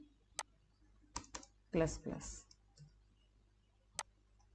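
Several separate keystroke clicks on a computer keyboard while code is typed, scattered through a quiet room, with a short stretch of speech in the middle.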